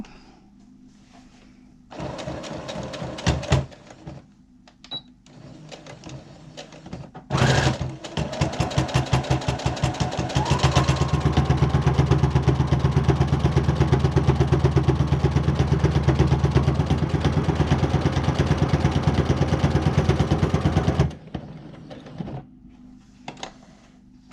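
Home sewing machine stitching a cotton barrier mask, with short starts and stops, then a long steady run of rapid mechanical whirring up close, no voices.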